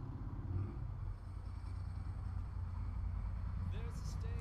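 Car engines idle and drive past outside a house as a low, steady rumble that stays faint and constant beneath a speaking voice indoors.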